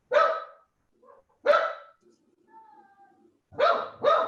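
Dogs bark indoors in sharp bursts: a single bark, another after a pause, then a quick closing pair, with faint whines in between.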